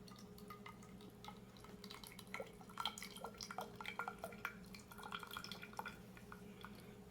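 Water dripping from an irregular solid lifted out of a container, scattered faint drips and small splashes against a quiet hum, close and soft.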